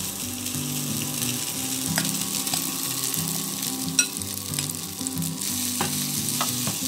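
Sago pearls and potatoes sizzle steadily in a hot pan for sabudana khichdi, a constant frying hiss with soft scrapes of stirring and one sharp clink of a utensil midway.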